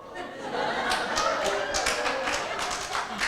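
A church congregation claps during an Indonesian sermon, a dense run of many hands clapping steadily for about three seconds, fairly close and loud, with a little chuckling mixed in.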